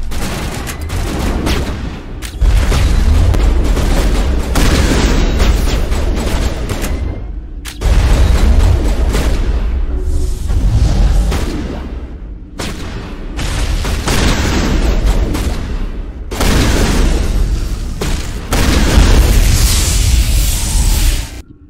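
Heavy gunfire and explosions in the Mass Effect video game, with sustained loud booming volleys and rapid shots rolling on in waves, broken by brief quieter gaps.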